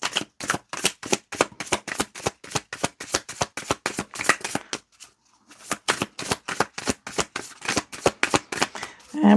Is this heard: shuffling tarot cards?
yes